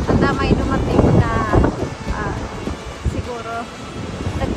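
Wind blows by the sea at Yomitan, Okinawa, buffeting the microphone in gusts with a soft wash underneath, while a person talks over it.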